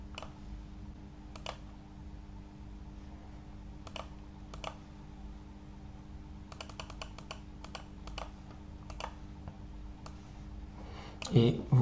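Sparse mouse clicks while working in QGIS software, single and clustered taps spread through a quiet stretch, with a louder burst near the end.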